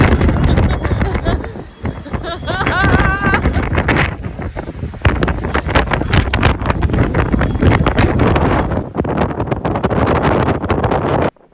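Strong wind at a waterfall in Iceland roars and buffets the microphone nonstop, loud and close, with voices partly buried beneath the gusts.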